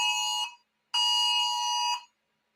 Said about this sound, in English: DG ready for the emergency alarm test